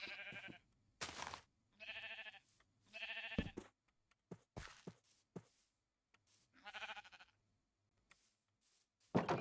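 Sheep bleating in the video game Minecraft, several wavering bleats spaced apart alongside soft knocks and clicks, close and clear against a quiet background without talk.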